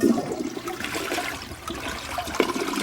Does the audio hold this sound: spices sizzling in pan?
no